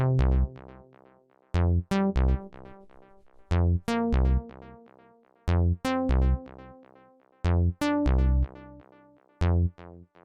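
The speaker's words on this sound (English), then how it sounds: "The next thing we have here is this bass, which sounds like this." A simple synth bass line of punchy, short bass stabs plays alone in a repeating house rhythm, dry and clear with brief gaps between the hits.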